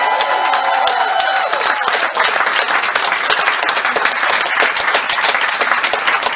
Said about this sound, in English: Big round of applause for the services, please